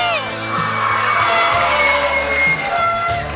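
A live crowd cheers, whoops and yells loudly for a Chilean band at a concert, a dense, continuous roar of many voices close up.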